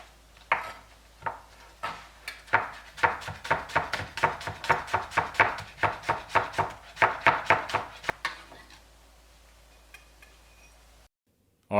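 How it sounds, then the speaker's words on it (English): Knife chopping green onions on a board, a quick run of about twenty-five crisp, evenly spaced taps that speeds up in the middle, then stops and leaves near silence. "I'm going to go ahead and cut some green onions here real quick."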